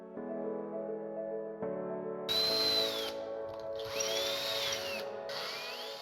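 A power drill bores holes into a metal lid for a lever, whining at a steady pitch and then rising into a harsher, higher bite as the bit cuts through, in bursts with brief pauses.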